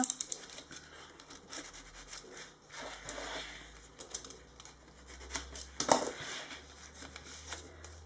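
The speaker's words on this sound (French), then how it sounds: "Je vais prendre un petit cutter." A small box cutter scrapes and slices through mail packaging close by. Quiet, scratchy strokes and light ticking come in uneven bursts, with one sharper snap near the end.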